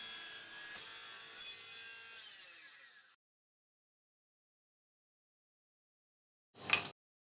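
A saw cuts a taper on the bottom of a wooden chair rib held vertical in a jig, producing about three seconds of steady rasping, then silence, then one short sharp knock.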